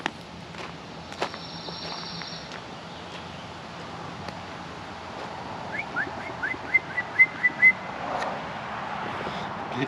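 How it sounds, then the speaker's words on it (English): Outdoors, someone tries to whistle, producing a short string of thin, breathy whistle bursts late on, with scattered footsteps and faint rustling in the background. "I can't even whistle."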